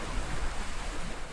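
Fast-flowing river water rushes below a canal lock where the Caldon Canal drops under a small bridge into the River Churnet, a steady, dense broadband roar with no voices.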